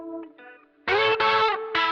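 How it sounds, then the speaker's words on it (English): Dirty electric guitar run through a Kurzweil KSP8 effects processor on an Angry Rotors preset with a touch of reverb: a quiet swirling note, then loud sustained distorted chords that swell, cut and restart, with no talking. "I put it on some dirty guitar."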